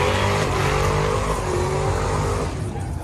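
A car taking a lap at the MotorEx show, a steady loud engine drone with tyre noise running close by and holding even throughout, no voices over it.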